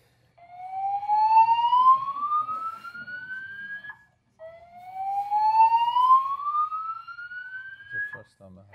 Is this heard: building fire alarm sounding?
yes